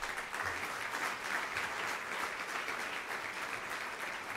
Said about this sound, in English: please give our sponsors a round of applause.